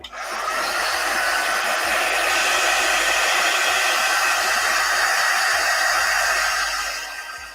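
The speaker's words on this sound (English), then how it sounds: "I have to plug in my quick dry tool." A handheld quick-dry heat tool blows hot air in a steady, loud, broadband whoosh that runs for several seconds without pause. It is close by, with no talking over it.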